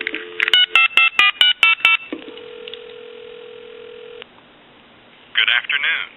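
A tone dialer on a Western Electric 329 wall telephone line taps out a phone number in quick, evenly spaced DTMF beeps, then a long steady tone holds before stopping, and a voice starts speaking at the end.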